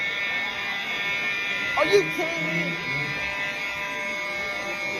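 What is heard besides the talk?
school fire alarm going off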